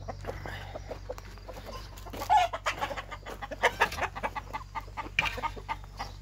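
Hens, including a grey one, cluck faintly in short, irregular bursts, with scattered clucks and scratchy farmyard noise in the background.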